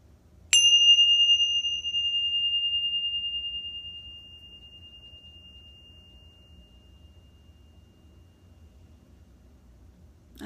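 Tingshas are struck once and give a clear, high bright ring that slowly fades away in a quiet room, leaving near silence.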